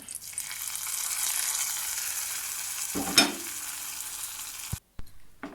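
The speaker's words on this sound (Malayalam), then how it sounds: "കടുക് താളിക്കാനായിട്ട് ഞാൻ കടുകും കറിവേപ്പിലയും പിന്നെ ചുവന്നുള്ളിയും കൂട്ടിയിട്ടാട്ടോ താളിപ്പ് ഉണ്ടാക്കിയത്." Mustard seeds, curry leaves and shallots sizzling in hot oil as a tempering, a broad steady hiss with one sudden louder crackling burst midway, then a clunk and abrupt quiet near the end; nobody speaks.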